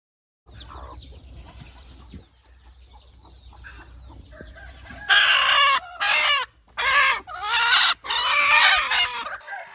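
Ten to fifteen broody hens kept together indoors for brooding, clucking and squawking loudly in clustered bursts over a quieter stretch of low clucks, with no talk.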